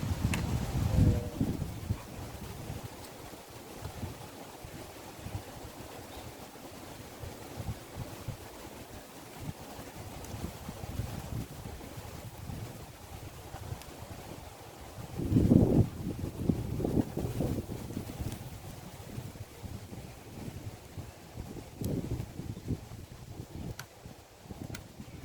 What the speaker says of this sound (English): Oh, wind's picking up.